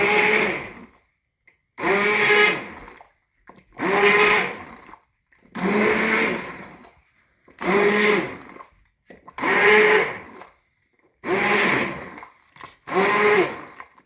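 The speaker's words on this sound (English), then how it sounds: "I'm gonna go through with my immersion blender a few passes" An immersion blender churns through a chunky beef stew in eight loud, evenly spaced bursts of a second or so each, with short silent gaps between passes.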